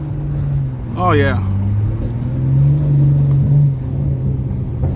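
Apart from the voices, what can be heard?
Hyundai Genesis Coupe engine and exhaust pops while driving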